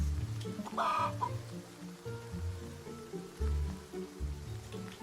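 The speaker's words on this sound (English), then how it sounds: "move out of the way, chicken." A chicken clucks in the fantasy video game Portal Fantasy, short soft clucks over a constant watery, rain-like ambient wash and low rhythmic game music, moderately loud throughout.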